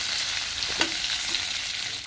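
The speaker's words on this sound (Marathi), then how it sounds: "हे बटाटे परतून घेते" Boiled potatoes sautéing with chillies in hot oil, a dense constant sizzle close to the pan with one faint stir stroke near the middle, no voices.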